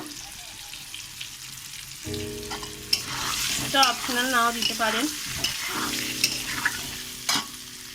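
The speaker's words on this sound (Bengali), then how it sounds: "ভাজা হয়ে গেছে, আলুগুলো তুলে নেব।" Potatoes frying in oil in a pan for chicken biryani, loud crackling sizzle with stirring scrapes, while a person talks over it.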